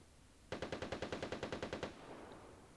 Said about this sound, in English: those shots are coming from behind me, not in front of me